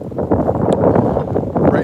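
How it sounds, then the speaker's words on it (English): Gusty wind blowing outdoors on a snowy Sunday morning near a park by the Credit River and Lake Ontario as a winter storm approaches, a steady loud rush buffeting the microphone with no talk. "It is quite windy."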